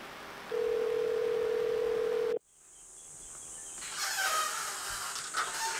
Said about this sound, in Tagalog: Matawagan na nga lang si Hana.